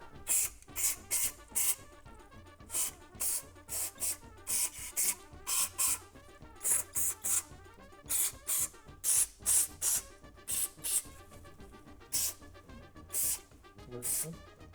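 Short bursts of aerosol spray hiss again and again in quick, uneven pulses, each a second or less, close and fairly loud, cleaning factory grease from a new CZ P-10 C pistol.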